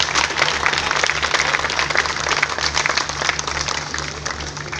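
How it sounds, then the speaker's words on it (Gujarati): Sustained audience applause at a traditional dance performance honouring artists at a haveli temple in Ahmedabad's Kalupur pol, dense steady clapping from a sizable crowd throughout, with a low hum underneath. "તાળીનો અવાજ વધારે આવે તો વધારે મજા આવે"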